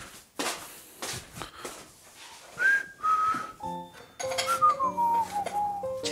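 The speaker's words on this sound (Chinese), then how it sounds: "吹口哨了。" A person whistles a short wavering tune indoors at home, with thin bright notes sliding between pitches amid footsteps and household shuffling.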